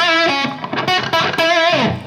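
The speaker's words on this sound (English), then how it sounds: "There's the pick sound." Electric guitar picked hard through an ENGL custom-shop high-gain amp, a loud, sustained distorted tone with a few pick attacks and ringing notes, played alone without talk.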